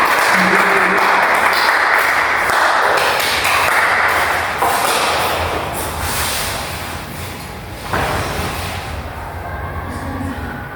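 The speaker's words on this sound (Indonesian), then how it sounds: "Tepuk tangan untuk Caca" Classroom applause as a student comes to the front, steady clapping from a group of students that fills the room for about ten seconds, gradually thinning, with a few louder claps and faint voices underneath.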